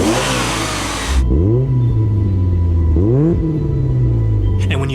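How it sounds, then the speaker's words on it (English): A Mazda Miata fitted with a swapped GM Ecotec engine cranks over loudly for about a second, catches and settles into a rough idle, then gets two sharp throttle blips that rise and fall in pitch, heard up close. "once the motor fires up, the harmonics it produces are less refined, less sewing machine than the B6 Mazda unit."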